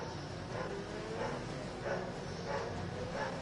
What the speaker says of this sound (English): do you hear the barking dog?